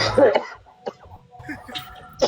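A person who is feeling unwell coughs in short, harsh bursts, one near the start and another at the end, close to the microphone, with faint voice sounds in between.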